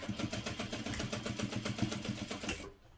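Sewing machine basting along the top seams of a hobo bag: a steady, rapid mechanical stitching rattle, close and fairly quiet, running for about two and a half seconds before stopping.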